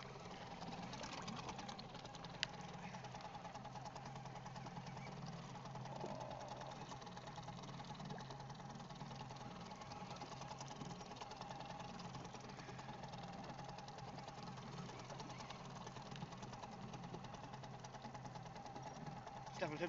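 A boat engine runs steadily throughout while fishing at sea, a continuous droning hum with a buzzy, rattling texture at moderate loudness and no clear pauses.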